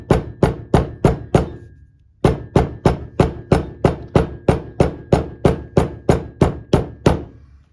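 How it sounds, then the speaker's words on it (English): A hammer strikes down on a leather project in an even rhythm, about eighteen loud close blows with a short pause after the first five, each hit crisp with a brief ringing decay. "hammer it down"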